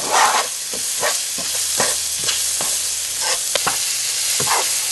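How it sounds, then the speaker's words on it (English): Ginger and chili sauté in a hot pan with a loud, continuous sizzle close by, punctuated by scattered spatula scrapes and knocks against the pan, and no voices. "Now we're going to add the chili, the ginger and the chili. Saute that a little bit."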